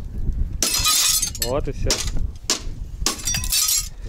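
Glass smashed with a hammer gives several loud, close shattering bursts with clinking debris, while people talk between and over the breaks.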